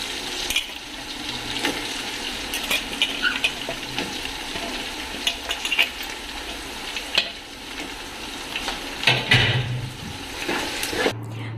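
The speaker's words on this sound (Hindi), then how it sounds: "यहाँ पर मैंने अनियन को हल्का सा फ्राई किया है" Onions lightly frying in a greased pan, giving a steady close sizzle with scattered crackles and occasional utensil scrapes and knocks, and no one talking.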